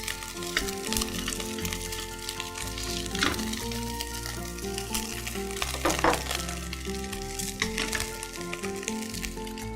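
Aged egg stir-fries in a hot wok, giving a continuous sizzle with occasional crackles and stirring scrapes, partly masked by steady background music with no talking.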